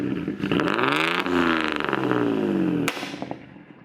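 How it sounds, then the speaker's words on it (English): An Acura RSX's engine revs up hard with a new aftermarket exhaust, holding a loud, raspy exhaust note, then drops off with a sharp pop and a few crackles. "You guys can kind of hear what it sounds like with the new exhaust."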